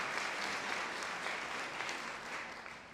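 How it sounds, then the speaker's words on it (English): Round of applause at a donor appreciation luncheon, a steady wash of many hands clapping in a hall, even and sustained, thinning a little near the end. "Please give a round of applause for Markey's Rental and Staging."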